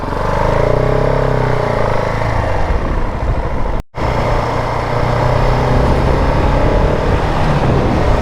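A KTM 690 supermoto motorcycle rides along a winding road, its engine droning loud and close with shifting pitch as it accelerates, broken by a brief dropout midway.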